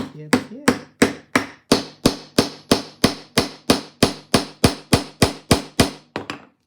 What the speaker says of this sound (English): now we're going to drive the 1/8 roll pin into the shaft, hopefully, with our little baby hammer